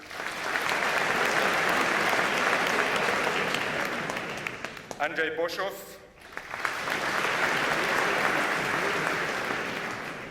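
An audience at a school speech night applauds steadily and loudly, a broad wash of clapping that dips briefly while a voice reads out a name, then swells again.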